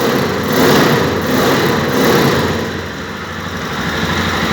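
A Gilera YL 200 motorcycle engine idles slightly fast once warmed up in a workshop, a steady close, loud mechanical drone with gentle rises and dips in speed.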